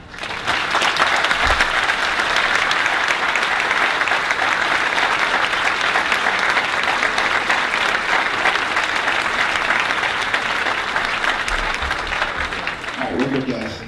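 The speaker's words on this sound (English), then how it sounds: "So I'll ask my classmates to all stand and give you a round of applause." Graduating class on its feet applauding at a graduation ceremony, a dense continuous wash of clapping from a large crowd lasting over ten seconds before tapering off.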